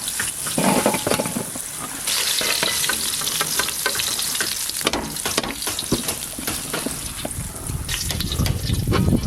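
Potatoes fry loudly in oil, a dense, continuous sizzle with bursts of crackling and occasional stirring clatter close by.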